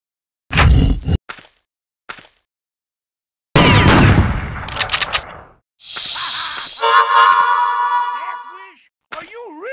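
Sharp gunshot bursts and rattling fire from the Western shooter Outlaws, set in a sanctuary town, come in short loud clusters with ringing hits and whistling tones between them, and no speech over the shots.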